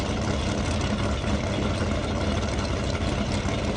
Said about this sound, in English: the 91 Mustang with a turbo underneath it